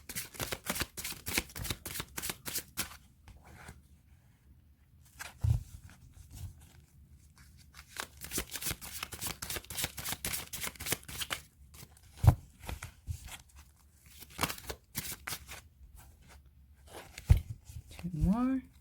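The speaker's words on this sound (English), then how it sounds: "I'll be shuffling here the cards live for you." Tarot cards shuffled by hand in repeated bursts of riffling and sliding, close and fairly quiet, with brief pauses and a few soft thumps; someone speaks between shuffles.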